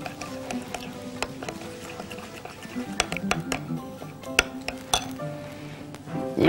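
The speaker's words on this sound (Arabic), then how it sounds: "وهنقلب تقليبة حلوة" Metal utensil clinks and scrapes against a pan while stirring food with olive oil, salt and pepper, irregular sharp taps at close range under a quiet kitchen background.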